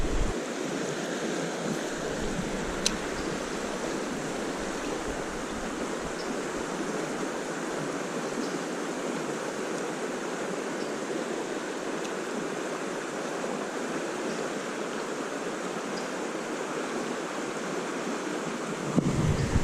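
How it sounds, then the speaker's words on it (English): River rapids rush between two sets of whitewater, a dense, steady roar of flowing water that holds without a break throughout. "we're right in between two sets of rapids"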